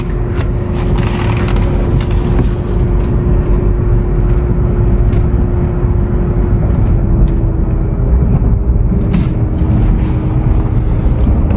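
A Renault Triber car driving along, heard from inside as a loud, steady road and engine rumble that holds throughout with no talk.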